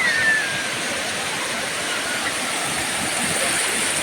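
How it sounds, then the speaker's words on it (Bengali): Small sea waves wash steadily onto the shore at Mandarmani beach, a continuous soft broadband rush of surf with no distinct breaks, close and even throughout. "এই ছোটো ছোটো ঢেউগুলো সত্যি খুব সুন্দর, যে এক একটা ধেয়ে আসে সাগর থেকে"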